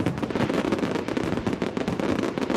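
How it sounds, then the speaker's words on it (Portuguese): Fireworks bursting along the coastline at a New Year celebration, a dense, continuous crackle of many rapid pops and bangs at moderate distance with no voices. "Ao todo, 18 pontos de queima de fogos foram distribuídos pelo litoral."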